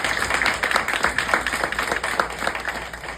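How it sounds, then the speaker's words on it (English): An audience claps hands together at a community gathering, a dense, steady patter of many hands lasting a few seconds, fairly loud and close with no talk over it. "So clap your hands if you agree with that right"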